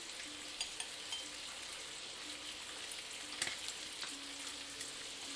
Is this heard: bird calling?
no